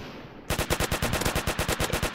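Rapid gunfire shoots through a wall in a Roblox game, a tight burst of evenly spaced automatic shots that begins suddenly and stays loud and steady throughout.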